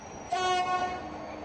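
A Moroccan train passes with a loud horn blast that holds steady for about three-quarters of a second and then fades as rail noise continues, with no voices.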